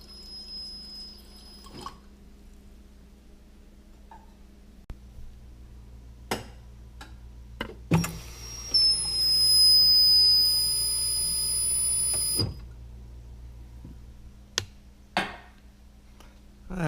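A faulty water dispenser on a GE Profile refrigerator, with sharp isolated clicks and drips followed by a few seconds of steady hissing flow and a whine, then more scattered clicks in a quiet kitchen.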